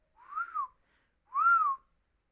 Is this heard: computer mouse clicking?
no